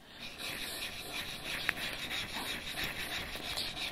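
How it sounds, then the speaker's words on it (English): Steel chisel being flattened on a diamond sharpening stone: a steady, close abrasive rasping scrape in continuous back-and-forth strokes, with no speech. "And I'm going to flatten the base of the chisel."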